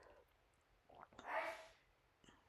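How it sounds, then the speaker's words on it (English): A single soft sneeze in the background, short and somewhat distant, preceded by a faint breath. "that was my husband sneezing"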